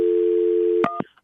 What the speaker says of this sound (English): Jacqueline, hang on, it's ringing.